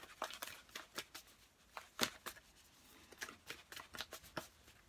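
Tarot cards shuffled by hand at close range, giving a steady run of quick, crisp riffles and slaps that are soft overall, with no talking.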